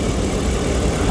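A 2011 RAM 1500 pickup with a 5.7L HEMI V8 idles steadily, its low, even engine rumble close and continuous; the truck has a cylinder 1 ignition coil that keeps shorting.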